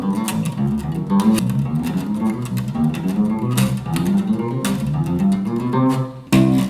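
Bass guitar runs through a difficult bass passage, fast shifting low notes in a busy continuous line with sharp percussive string clicks, steady and fairly loud, no one talking.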